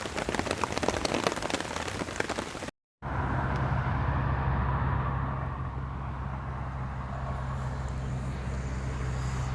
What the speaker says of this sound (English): It's just gone 8 and it's still raining.